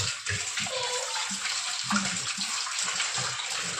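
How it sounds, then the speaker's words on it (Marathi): Running water pours steadily from a tap, splashing and gurgling as raw chicken is rinsed underneath, close and continuous with small shifting knocks. "सर्वप्रथम आपण चिकन स्वच्छ पाण्याने धुवून घेऊया"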